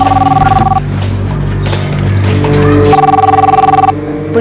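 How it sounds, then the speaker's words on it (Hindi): A telephone rings with a pulsing electronic trill in two bursts separated by a stretch of noisy background, loud and close. "देखो तो किसका फोन है?"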